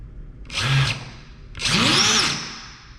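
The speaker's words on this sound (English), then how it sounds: "The motors are doing their thing." Two bursts of whirring from the brushless motors on a homemade Nerf sniper blaster powered by ESCs, each spinning up loudly for about a second with a rising and falling pitch, close by and with no talk over them.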